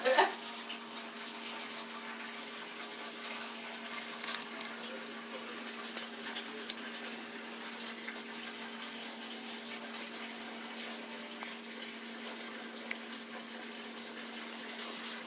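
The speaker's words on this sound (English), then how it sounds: "Trey, you let out my dishwater." Dishwater drains out of a kitchen sink with a continuous, even rushing and gurgling that holds steady the whole time, moderately close and not loud.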